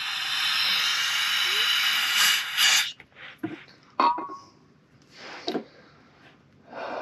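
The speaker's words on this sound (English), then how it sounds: "So let's spray some brake clean." Brake cleaner aerosol sprayed through a clogged fuel filter from a 1993 Mustang: a loud, steady hissing spray for about three seconds, then short bursts and handling noises nearby.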